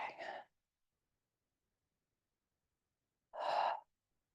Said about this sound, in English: Inhaling and exhaling. Inhaling, exhaling.